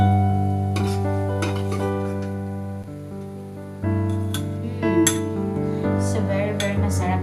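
Utensils clink and scrape against dishes as breakfast food is transferred onto a plate, with a steady sustained tone underneath and a few sharper metallic taps near the end.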